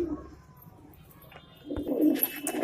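Pigeons cooing at close range, low soft coos that swell toward the end over a quiet, slightly noisy outdoor background, with no talking.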